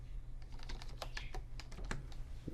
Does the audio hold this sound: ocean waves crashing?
no